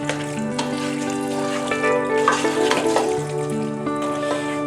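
White sauce pasta being stirred in a pan, giving a steady close sizzle with soft scraping and squelching movements over a constant hum, and no voices.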